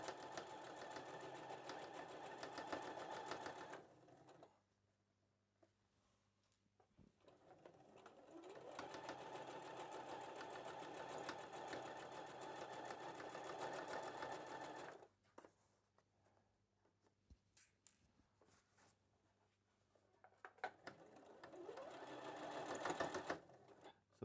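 A sewing machine stitches a gardening apron in two long, steady runs of rapid mechanical whirring, close and clear. Between them is a quiet pause with soft handling noises, where the fabric is turned at a corner.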